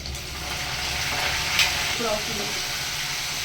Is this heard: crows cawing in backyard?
no